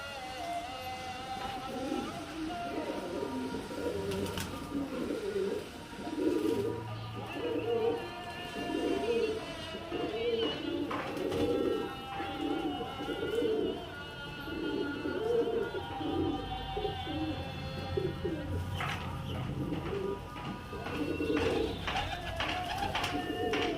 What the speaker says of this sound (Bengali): প্রচুর পায়রা আছে